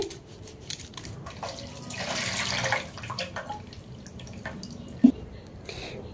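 Tap water runs over soapy hands being washed at a sink after making a homemade lentil soap, a steady close splashing hiss that swells in the middle, with a small clunk near the end and no talking.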